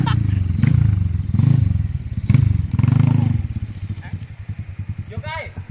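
A dirt bike trail-riding through a pine forest, its engine revving and idling up close in uneven bursts with clattering and thumping over rough ground, while people talk loudly over the motor.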